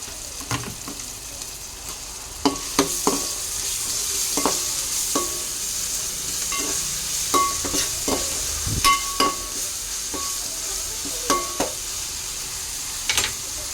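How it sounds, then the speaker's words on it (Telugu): Ginger-garlic and cumin paste with turmeric fries in a pan for a chicken fry, giving a steady close sizzle broken by frequent light scrapes and clinks of stirring, with no talking. "సో అల్లం పేస్ట్ కూడా చక్కగా ఫ్రై అయిపోయినాయి."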